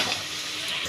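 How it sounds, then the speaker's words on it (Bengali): Crisp grated-coconut fritters fry in hot oil, giving a brief, soft, even sizzle with faint bubbling. "দেখো, একদম আওয়াজটা শুনলেই বুঝতে পারছো যে একদম শক্ত মচমচে একদম হয়েছে নারকেলের বড়াগুলো।"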